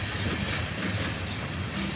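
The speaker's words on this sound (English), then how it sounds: "And the last car finally goes past us." The last car of a freight train rolls past close by, a steady loud rumble with rhythmic clickety-clack of wheels over rail joints and a thin high squeal running throughout.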